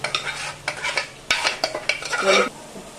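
Lentils (dal) frying in a pan for Andhra munakkaya (drumstick) sambar, with close, uneven scraping stir strokes over a light sizzle, coming in quick bursts with short pauses and no talking.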